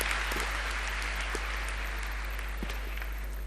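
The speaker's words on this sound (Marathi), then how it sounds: "टाळ्या द्या हिला" An audience at a college cultural event gives a short burst of steady applause for a student, heard at moderate distance over a low hum.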